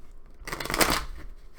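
Tarot cards being shuffled in a short burst of brisk riffling and fluttering that peaks in the middle, close and fairly soft, with no voices.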